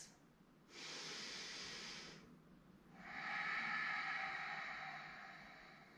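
Two deep, slow breaths during a yoga stretch, heard close and soft: a long airy inhale, then a pause, then a longer and fuller exhale that fades gradually.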